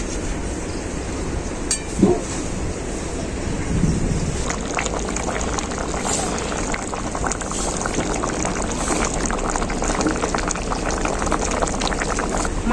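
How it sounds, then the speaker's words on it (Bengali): Fish curry gravy with cauliflower and khoira fish bubbles steadily in a pot, a continuous close, low rumbling simmer that runs the whole time with no voices. "মাছটা দেওয়ার পর ঝোলটাকে আমি আবার ভালো করে ফুটিয়ে নেবো"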